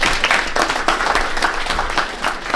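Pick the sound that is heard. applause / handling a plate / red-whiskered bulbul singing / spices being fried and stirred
applause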